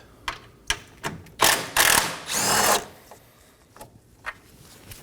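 A power tool works an 8mm bolt loose from the crossbar of a Dodge Durango, several short whirring bursts with a couple of longer runs and quiet gaps between them, close and fairly loud.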